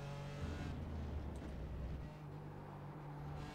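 A BMW GT4 race car in iRacing at the Red Bull Ring drones steadily with a sustained engine tone, while another lapped car's engine swells and passes around the middle before the steady hum carries on.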